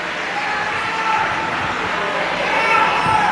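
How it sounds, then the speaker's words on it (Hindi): Loud, sustained clapping from a large audience at a Shiv Mahapuran katha religious gathering, a dense steady wash of applause lasting the whole stretch. "एक बार इनके लिए जोरदार ताली बजाओ"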